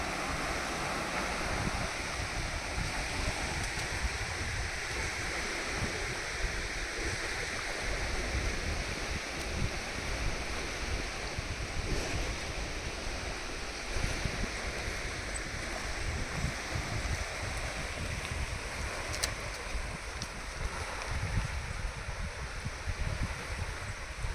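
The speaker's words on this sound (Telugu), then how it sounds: "నిండిపోయింది నీళ్ళతో, ఈ అలలతో" Waves wash continuously over the flooded Stambheshwar Shiva temple at the Mahi Sagar shore, a steady, rushing surf roar with a low rumble and a breezy hiss, unbroken and without voices throughout.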